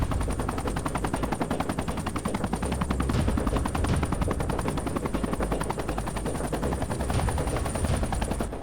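A Bell JetRanger helicopter flies close by, its rotor chopping in a fast, steady rhythm over a loud turbine whine for the whole stretch, with no voices.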